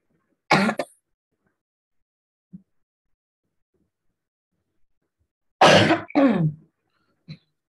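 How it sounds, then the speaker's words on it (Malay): Two separate bursts of throat clearing or coughing, the second a harsh double burst, with small soft sounds between them in a quiet room. "Kuat batuk tu."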